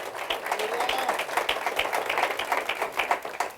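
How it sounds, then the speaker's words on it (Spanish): A church congregation claps together for the Lord during a sermon by Pastor Luis Enrique del Cid, a steady round of fairly close, even hand claps lasting a few seconds. "Denle un aplauso al Señor,"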